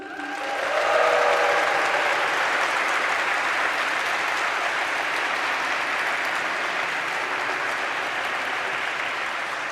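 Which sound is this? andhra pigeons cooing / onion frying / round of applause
round of applause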